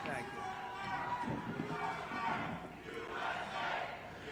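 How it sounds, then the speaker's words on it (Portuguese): A large crowd at a press event chants in unison, rhythmic swelling shouts of "USA" repeated in waves, loud and roomy with a mass of voices. "O público grita USA,"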